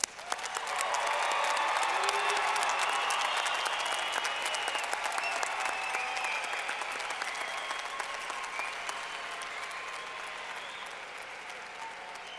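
Large audience at a university fall commencement ceremony applauding the graduates, a steady dense wash of clapping that swells quickly and holds for several seconds before slowly tapering.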